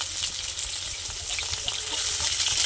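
Potatoes, raw banana and drumstick pieces frying in hot oil in a wok, a dense, loud, continuous sizzle and crackle with no talking.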